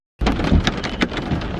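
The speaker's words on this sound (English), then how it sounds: "it's raining so much, like you have no idea. It's pouring." Heavy pouring rain makes a dense, steady roar, with a few dull thuds of thunder or rumble rising briefly above it.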